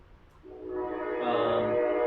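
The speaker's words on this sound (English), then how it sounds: "That's the train." A passing train's horn swells up from near silence into a sustained, rising blare that holds steadily at moderate distance, with no voices.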